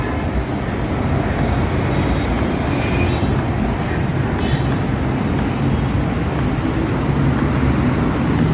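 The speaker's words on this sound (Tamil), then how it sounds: "விம்கோ நகரை நோக்கி செல்லும் மெட்ரோ ரயில் பார்க்கலாம்." A Chennai metro train heading toward Wimco Nagar rolls past near the Kathipara flyover, a steady loud rumble of wheels on rails blending with surrounding road traffic throughout, with no voices over it.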